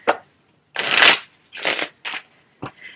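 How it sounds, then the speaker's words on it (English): A deck of playing cards being shuffled up close in several quick riffling bursts separated by short silences, with no talking. "I'll put the 10 of clubs back in and shuffle the cards."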